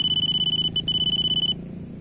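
Timer alarm on the radio transmitter of a 7-inch FPV drone, beeping in a steady rapid series of short high tones for about a second and a half over motor and propeller drone, then stopping.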